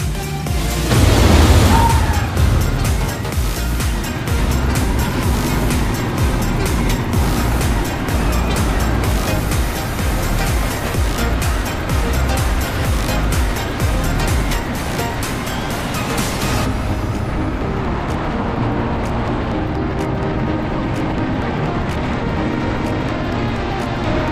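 Roar and rumble of Apocalypse, a wooden GCI roller coaster at Six Flags Magic Mountain, running loud and continuous with dense clattering across the ride, easing somewhat toward the end.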